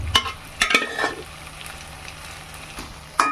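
Cooked meat being sautéed with taro root in a pot, producing a soft, steady sizzle broken by a few sharp scraping and clanking stirs of a utensil against the pot, with no voices.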